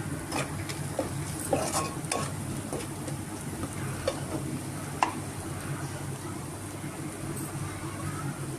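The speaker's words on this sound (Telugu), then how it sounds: "బాగా పచ్చివాసన పోయే వరకు వేయించుకుందాం." Ingredients for a Kolleru korameenu fish curry frying in a pan, a steady soft sizzle under intermittent spoon scrapes and clinks against the metal, close and moderately quiet with no talk.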